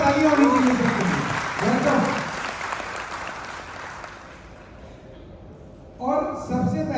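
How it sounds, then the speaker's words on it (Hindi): An audience at a program in Lucknow breaks into applause, clapping that swells and fades between stretches of someone speaking over it. "जोरदार तालियां होनी चाहिए सबके लिए"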